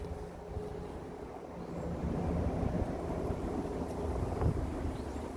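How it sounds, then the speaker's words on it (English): Steady wind roars and buffets the microphone, a low rumbling gust that swells slightly midway and stays continuous throughout. "Very windy, guys, very windy."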